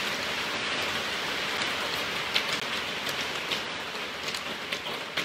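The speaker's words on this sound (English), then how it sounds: "let us know if you can hear us or if the rain is overpowering our voices" Steady, dense rain pours down outdoors, a loud even hiss with scattered sharper drops pattering on surfaces throughout, and no voices.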